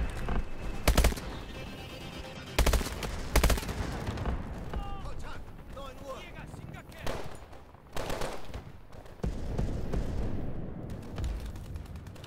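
Sharp gunfire bursts from the video game Call of Duty: Advanced Warfare, loud repeated shots and volleys in irregular clusters over a dense game soundscape, with a voice talking intermittently.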